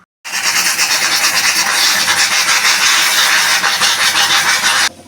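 Steam hisses loudly and steadily from a pressure cooker on the flame while Kumbakonam kadappa cooks, a bright continuous whistle-like rush that starts abruptly, holds for nearly five seconds, then cuts off.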